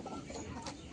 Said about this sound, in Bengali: খেলছে মুরগিরা।